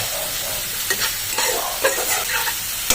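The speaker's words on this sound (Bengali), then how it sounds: "জিরে গুঁড়ো ভালো করে মিক্স করে নেব, যেন কাঁচা মশলার গন্ধ না ছাড়া সেরকম পর্যন্ত আমি ভালো করে ভেজে নেব মিক্স করে" Spices with cumin powder fry in a pan while a spatula stirs and scrapes in quick irregular strokes over a steady close sizzle.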